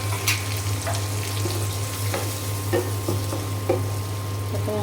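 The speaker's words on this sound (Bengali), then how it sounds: "এখানে পেঁয়াজ ভাজি করা হয়ে গিয়েছে, আমি এখন মশলা দিয়ে দিলাম।" Spices, including cumin, ginger, garlic and cardamom pastes, are stirred into fried onions in a pan for aloo dum, giving a continuous close sizzle with periodic spoon scrapes over a low steady hum.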